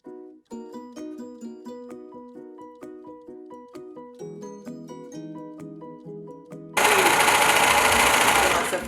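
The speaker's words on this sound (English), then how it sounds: "So what I'll do is I'm gonna ruffle my skirt with my ruffle foot here." A sewing machine with a ruffle foot gathers fabric for a toddler's skirt, its needle clacking in a quick, even stitching rhythm, then a loud rushing burst takes over near the end.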